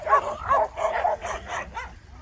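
Sled dogs on the ice bark and yip excitedly while being set up at the sleds, a lively run of overlapping barks and whimpers close by, with no talk.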